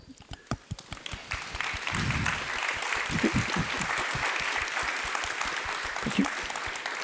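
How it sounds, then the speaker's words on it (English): Sustained applause from a summit audience standing in a hall, a few sharp separate claps at the start building into a steady, dense wash of clapping that holds loud and even throughout. "you're going to get a standing applause"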